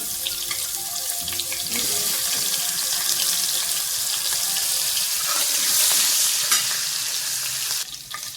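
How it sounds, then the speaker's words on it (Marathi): Onion drops into hot oil tempered with mustard seeds, hing and cumin for kanda kurdai, giving a loud, steady, close hiss of frying that swells and crackles throughout. "कांदा टाकून घेऊ. आता कांदा मस्त लाल होईपर्यंत"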